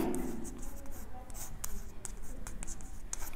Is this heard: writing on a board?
yes